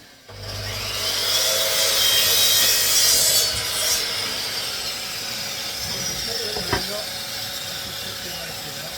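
A hand saw cuts an angled line through wood for a nest box roof, rasping steadily and loudly for about four seconds before easing into quieter strokes, with a single sharp knock near the end.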